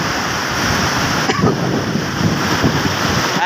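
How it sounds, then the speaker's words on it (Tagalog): Sea surf pounds the shore at Barangay Wawa, Batangas, during Typhoon Inday, a steady roar of breaking waves mixed with gusting wind buffeting the microphone, with one louder surge partway through. "Yan na, alon."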